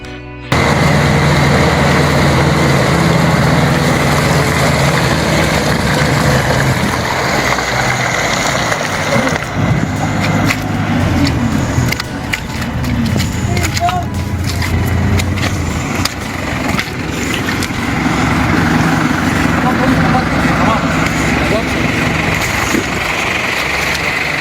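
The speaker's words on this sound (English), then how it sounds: "The Massey 135L is proof of that, tackling a heavy pull without stalling or slowing." A Massey 135L tractor engine labors as it pulls through deep mud on a flooded trail, a loud, continuous rumbling drone with brief surges and no speech.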